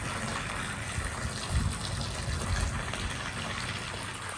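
Water gushing steadily into a pond, a continuous close rushing flow with slight swells, no talk.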